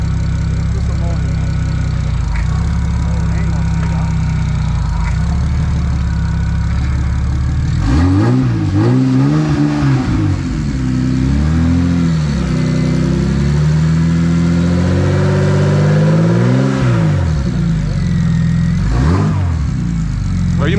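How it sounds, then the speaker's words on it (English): Single-turbo BMW 335 idling loudly up close, then revved repeatedly in several rising and falling sweeps, with people talking around the car between bursts. "Stop revving it."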